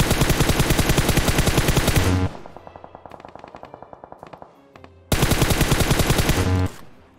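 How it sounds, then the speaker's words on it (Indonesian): Rapid automatic gunfire in a shooter game crackles in two loud, close bursts of evenly spaced shots, separated by a quieter stretch of more distant fire. "Oh, dia nembak, dia nembak,"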